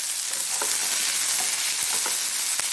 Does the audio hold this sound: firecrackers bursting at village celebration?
no